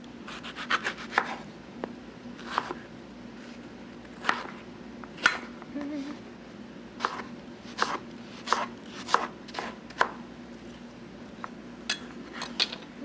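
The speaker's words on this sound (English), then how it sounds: "we're just gonna cut these into little small dices" Repeated knife chops through peaches and plums on a cutting board, sharp irregular taps spread over quiet kitchen background, near and moderately loud.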